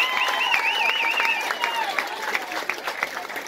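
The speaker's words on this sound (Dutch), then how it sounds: "Een grootste applaus aan deze keer." Applause from the audience at a talent-show playback performance, KSC Got Talent 2019, a steady wash of clapping with tonal sounds or voices running over it throughout.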